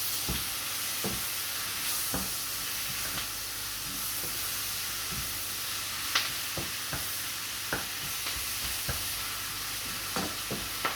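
Onions fry over a gas flame turned up high for an onion tart, a steady loud sizzle and hiss with occasional clinks and scrapes as a utensil stirs the pan, no talking.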